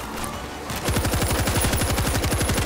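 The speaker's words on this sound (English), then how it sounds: "Stationary machine gun in position." A stationary machine gun in World War Z Aftermath fires one fast, steady burst of loud rapid shots after a brief quiet lead-in, the rounds hammering evenly until the end.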